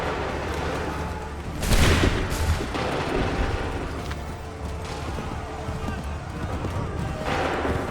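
A musket volley in Assassin's Creed III: a loud crackling burst of gunfire, then scattered shots and battle noise, with voices shouting orders over the din.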